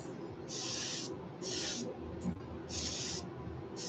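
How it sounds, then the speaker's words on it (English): An airbrush sprays paint over the tip of a rainbow smelt jerkbait fishing lure, giving three sustained hissing bursts of about half a second to a second each, with short pauses between them, close and fairly quiet. "I'm just kind of fanning my airbrush over the very tip here."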